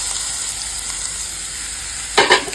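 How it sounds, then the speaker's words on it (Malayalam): Grated beetroot dropped into a hot mustard, dried chilli and curry leaf tempering, a steady hiss of frying oil flaring into a brief louder sizzle near the end. "ഇനി നമുക്ക് ഗ്രേറ്റ് ചെയ്ത് വെച്ച ബീട്രൂട്ടും കൂടി ചേർത്ത് കൊടുക്കാം"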